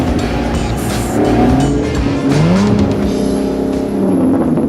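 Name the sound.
supercar driving fast on the road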